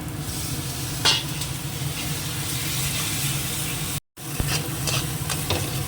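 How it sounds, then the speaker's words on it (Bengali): A chilli masala paste of two kinds of chilli, loosened with a little water, fries and hisses steadily in a pan while being stirred, with a brief scrape and a short break partway through. "দু রকম লঙ্কা মিলিয়ে একটু মশলাটা ভালো করে কষিয়ে নিই"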